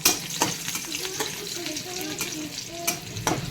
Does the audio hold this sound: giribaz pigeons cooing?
no